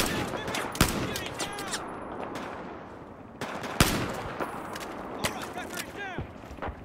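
Shots from a player's gun in the video game Battlefield 4, sharp single cracks and short bursts spaced across the stretch over a busy battle backdrop, with a voice talking at times.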